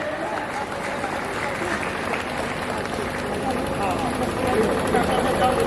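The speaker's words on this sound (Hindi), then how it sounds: "एक बार जोरदार तालियां बजा के" An audience at a poetry gathering in Lucknow claps steadily and densely, a continuous wash of applause that swells slightly toward the end, with voices mixed into the noise.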